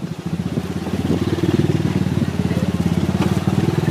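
A habal-habal motorcycle taxi engine chugs close by near Red Rock Falls with a loud, rapid, steady pulsing beat that rises and holds as the bike works under load.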